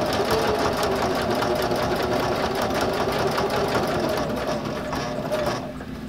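A sewing machine runs steadily, stitching a Velcro-backed fabric cover for a bag handle, with a continuous close whir that slows and stops just before the end.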